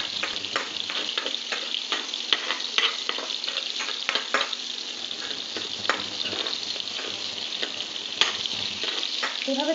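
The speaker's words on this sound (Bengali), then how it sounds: "রসুনগুলো গোটা পোয়াই থাকবে, এটা ভালো করে ভেজে নিয়ে সমস্ত মশলার একটা ব্লেন্ড হবে।" Whole garlic cloves and chillies fry in hot oil for a paneer masala curry, giving a continuous close sizzle broken by repeated crisp pops and stirring clicks, with no one talking.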